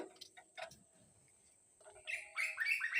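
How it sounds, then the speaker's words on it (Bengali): Small birds chirp and tweet outdoors at dawn, with a few scattered calls early and a denser burst of bright, quick chirps near the end, fairly close and moderately loud. "পাখি কিচিরমিচির করছে।"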